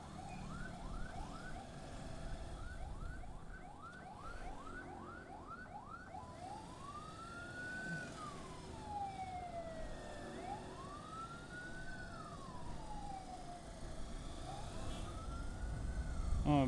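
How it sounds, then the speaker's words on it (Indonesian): An ambulance siren wails in rising and falling sweeps, shifting from quick yelps to long slow wails, moderately distant amid road noise. "di depan banyak mobil ambulans lewat ninu"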